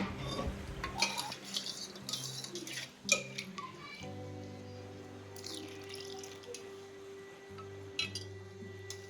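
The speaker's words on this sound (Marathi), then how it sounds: "आता इथे लागेल त्याप्रमाणे पाणी ऍड करायचं आहे" Water trickles and splashes into dal in a kadhai, with clinks of a utensil against metal and a faint background hum.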